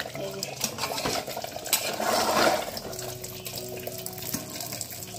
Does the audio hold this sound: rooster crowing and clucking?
no